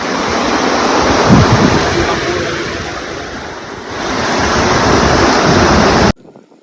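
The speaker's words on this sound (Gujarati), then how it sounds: "સારામાં સારો વરસાદ આવી ગયો." Heavy monsoon rain pouring down outdoors, a loud dense hiss and roar that holds steady for several seconds, dips briefly, swells again and then cuts off abruptly, with no voices.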